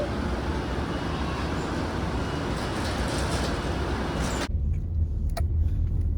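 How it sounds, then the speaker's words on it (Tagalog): An Uber car rolls up with a loud steady engine and road roar that cuts off suddenly to a quieter interior hum near the end. "Dumating na din ang aming sasakyan. I mean, hindi pala aming sasakyan. Ang aming Uber."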